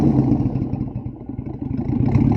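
A 2001 Chevy Silverado with a Black Widow Neighborhater exhaust and 8-inch tip, engine hot, rumbles close by at startup with a deep, steady, throaty exhaust note that swells slightly near the end.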